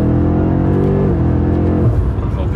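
A BMW 5 Series CS driving through Box Canyon, a steady engine drone with strong low harmonics that shift pitch partway through as the revs change, loud and close throughout.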